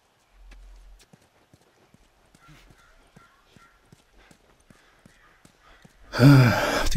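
Horse hooves clip-clop slowly and sparsely in The Last of Us, a faint irregular patter of soft knocks heard alone before a sudden loud burst of game sound at the end.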